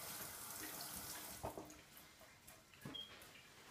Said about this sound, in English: And then I'm gonna wash my hands.